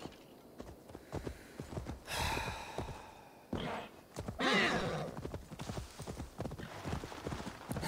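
A video game horse whinnies and snorts up close amid clopping hooves, with breathy sighs and a few soft footsteps around it.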